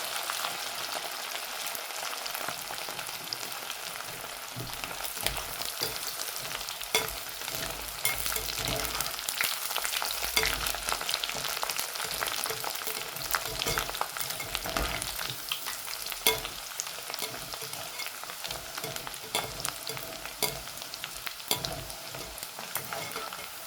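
Pieces of dried Bombay duck (bumla) fry in hot oil until crisp, giving a dense, steady crackling sizzle that stays loud and even throughout, with no voices.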